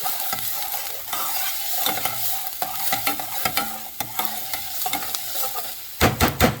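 Red pepper sauce with garlic cooks over medium heat in a pan, with continuous sizzling and repeated scraping stirs of a utensil, ending in a louder burst of quick stirring strokes.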